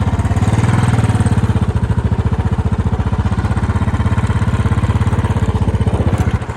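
A Royal Enfield Bullet motorcycle engine runs close by with an even, rapid thumping beat that holds steady throughout, with no talking.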